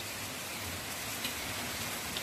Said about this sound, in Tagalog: Medyo bumaba yung bagsak ng ulan.